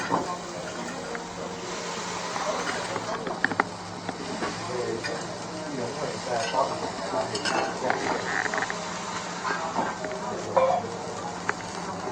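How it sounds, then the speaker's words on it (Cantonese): Beef being pan-fried, with a continuous sizzle broken by scattered pops and crackles that carries on steadily under occasional voices. "再煎個黃牛啦。"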